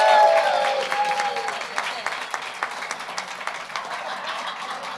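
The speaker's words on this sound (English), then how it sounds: "So I would like to give her a round of applause." An audience at a Hall of Fame ceremony applauds, a dense burst of clapping that gradually thins into scattered individual claps before fading.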